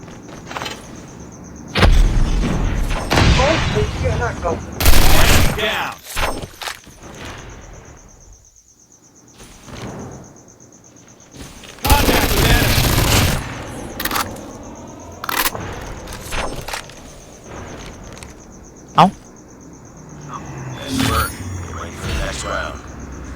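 Gunfire from an RUS 79U submachine gun in the mobile shooter Call of Duty Mobile, loud bursts of rapid shots in several separate volleys with quieter gaps between them, over a steady high game tone.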